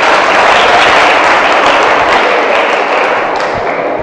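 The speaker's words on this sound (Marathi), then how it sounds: "टाळ्या वाजून अभिनंदन करा." An audience at a school Science Day quiz claps to congratulate a correct answer, a loud, dense and steady wash of applause that holds evenly throughout.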